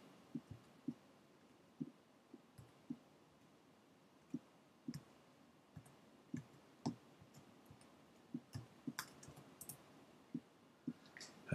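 Slow, irregular clicking of keys on a computer keyboard as a password is entered, single soft taps spaced apart with occasional quick pairs, close and fairly quiet over a low hiss.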